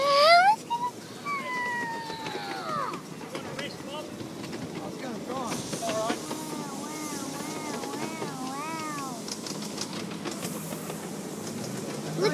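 A miniature railway train runs slowly at Box Hill on Good Friday, a steady rumble under children and adults talking nearby, with a cat-like squeal or whistle early on.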